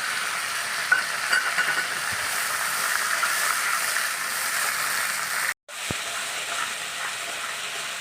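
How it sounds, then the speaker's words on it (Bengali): Sugar being stirred to dissolve for Bengali square pitha, a steady close scraping and swishing texture running without pause, briefly cut by a short gap near the end. "চিনিটা ভালো করে গুলিয়ে নিয়েছি।"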